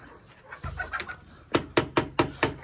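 Hens clucking as they gather for feed on a farm, a run of sharp, evenly spaced clucks growing louder and close by, with faint softer calls before them.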